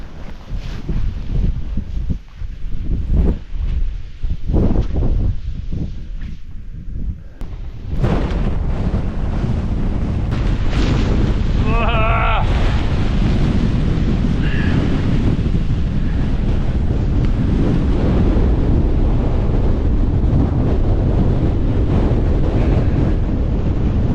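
Strong wind roaring across a snowy Scottish mountain summit at Cul Mor in harsh deep winter, gusty buffeting at first, then a sustained loud blast against the microphone.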